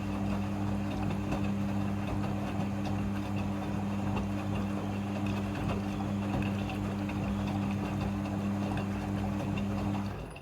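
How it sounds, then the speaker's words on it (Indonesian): A Midea front-loading washing machine rinsing a bed cover churns with a steady, continuous watery swish and low motor hum, close and unbroken for the whole stretch before easing off at the very end. "Pada proses pembilasan dengan air, mesin cuci akan mengatur jumlah kebutuhan air secara otomatis."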